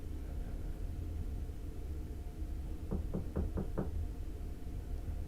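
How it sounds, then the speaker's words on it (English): Five quick knocks on a kitchen back door, evenly spaced and fairly loud, sounding over a steady low background rumble that continues before and after. "you heard a knock on the kitchen's back door."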